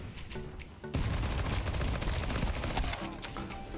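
Rapid, continuous gunfire from a competitive Counter-Strike 2 match bursts in after a short quieter lead-in and keeps up loud, dense volleys to the end.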